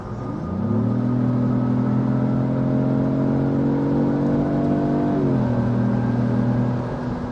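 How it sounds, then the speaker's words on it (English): A 2024 Lexus GX550 engine bellows loud and close under hard acceleration, a steady rising drone that holds for several seconds before the pitch shifts with a gear change, with no talk over it. "she bellows when you put your foot in it"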